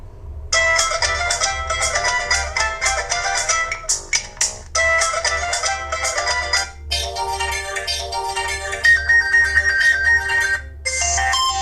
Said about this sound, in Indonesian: Kita coba untuk memainkan beberapa ringtone-nya.